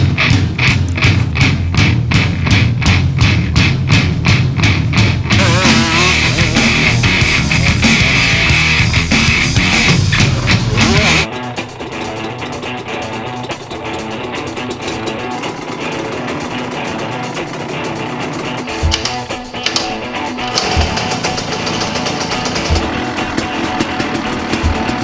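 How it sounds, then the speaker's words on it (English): A Yamaha YZ125 two-stroke motocross motorcycle on a track, its engine rasping loudly in rapid pulses, then shifting to a thinner, revving drone with throttle bursts and thumps, close and continuous without talk. "You want to see the fastest way around the track? You're looking at it, the new YZ125."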